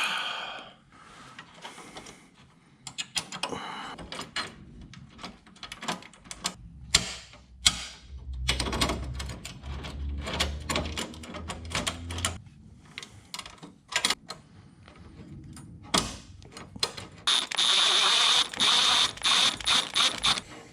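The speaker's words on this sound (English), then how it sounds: "we're going to pop these in here and see if we can tighten this thing up" A ratchet tightens a lock nut on a Perrin oil cooler on a Subaru WRX/STI EJ25, giving fast, fairly faint bursts of clicking with short pauses between the runs of turns.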